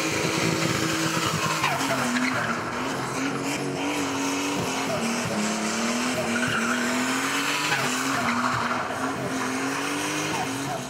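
A standard BMW 325i E36 fitted with a turbocharged RB25 engine from a Skyline R34 spins its tires, the engine roaring loud and steady for about eleven seconds while the tires shriek continuously with wavering pitch.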